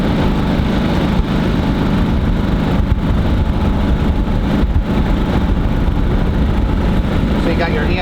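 Harbor Freight Predator 3500 inverter generator running rough: a loud, close, continuous engine drone with an uneven, slightly lumpy throb throughout.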